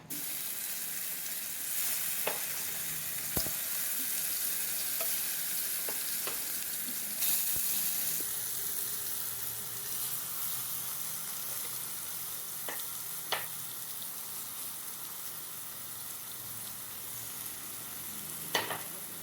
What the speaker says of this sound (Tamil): இப்போ ஃப்ரை பண்ணி எடுத்துடலாம்.